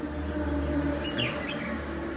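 Red-whiskered bulbuls chirp and twitter at a birdcage maker's workshop in Cao Bang, short bright calls rising over a steady low background hum.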